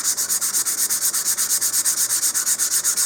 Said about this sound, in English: You don't need to sand really deeply.